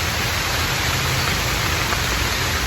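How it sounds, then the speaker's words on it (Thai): Steady, dense hiss of rain falling nearby in a bamboo forest, constant and unbroken throughout, with no voices. "อันนี้ก็ฝนตกเป็นที่เรียบร้อยแล้วนะครับ"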